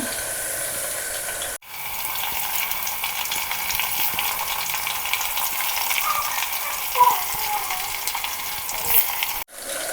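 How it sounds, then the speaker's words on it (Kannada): Eggplant and onions fry in oil, giving a loud, continuous sizzle that fills the clip, briefly cut off twice. "ಈರುಳ್ಳಿನ ಸ್ವಲ್ಪ ಫ್ರೈ ಆಗಿದೆ ಆನಿಯನ್ ಇದಕ್ಕೆ ಎಣ್ಣೆ ಬದನೆಕಾಯಿನ ಹಾಕ್ತಾ ಇದ್ದೀನಿ"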